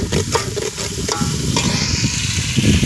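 Tomatoes and onions fry in a pan for a Gujarati panchmukhi dal, making a loud, continuous sizzle broken by the clatter and scrape of stirring.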